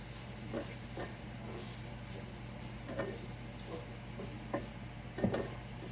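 Sliced bitter gourd fries with turmeric and chili powder in a pan, a soft low sizzle under repeated clinks and scrapes of a spoon stirring, quiet and close.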